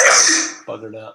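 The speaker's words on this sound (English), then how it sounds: "there's going to be a lot more sneezing as the season changes" A single sharp sneeze bursts out loud and close, followed by a brief muttered voice as it fades.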